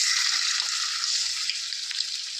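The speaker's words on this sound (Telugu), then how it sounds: "చూడండి, ఆయిల్ బాగా మరిగింది. పెద్ద చేపలు కాబట్టి ఒక్కొక్కటి వేపుతాను నేనైతే." Large fish frying one at a time in well-heated, boiling oil, producing a steady, loud hissing sizzle that carries on without pause.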